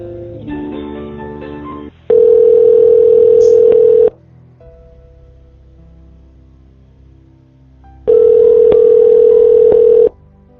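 Telephone ringback tone heard while a caller is put through to another line, two long steady bursts about two seconds each separated by quiet with faint background sounds, loud and close with no talking.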